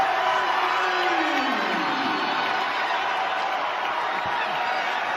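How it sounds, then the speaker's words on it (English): A basketball arena crowd at Auburn's Neville Arena erupts after a three-pointer against Jackson State, a dense, loud, unbroken roar of cheering that holds steady from start to finish. "That might have been the loudest cheer of the night."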